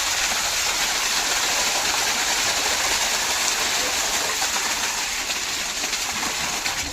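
Water pours steadily into a cattle trough used for both feeding and drinking, a constant broadband rush like a small stream running without a break, close and fairly loud throughout.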